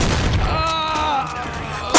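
A gunshot in the Mafia video game goes off as a sharp blast at the very end, after a stretch of tonal game sound and voices.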